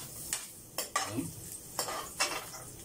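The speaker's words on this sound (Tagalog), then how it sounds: "Lalagay na po natin yung luya, gigisahin natin konti." Ginger being sautéed in hot oil in a wok-style pan, a faint sizzle under a series of soft clinks and scrapes of a utensil stirring against the metal, with no talk.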